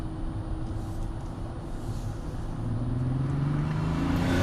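Car engine on the Grand Sambuc race circuit during a Lamborghini driving course, a steady low rumble that swells as the car draws nearer and passes, with no talk.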